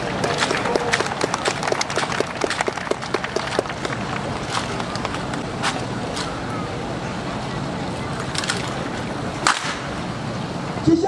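A marine honor guard performs M1 Garand rifle drill at a harbor pier ceremony. Crisp, repeated slaps and clacks of hands on rifles ring out in a steady rhythm over a broad murmur of outdoor crowd and wind.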